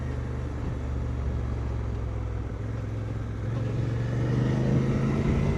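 A Suzuki V-Strom motorcycle rides on gravel, its engine a steady low drone with road rumble that swells slightly near the end, heard from the rider's position.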